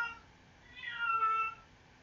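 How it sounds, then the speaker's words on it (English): A pet cat lets out a single drawn-out meow, faint and somewhat distant, swelling in the middle and then fading, over a quiet background. "And of course, my cat absolutely will not shut up."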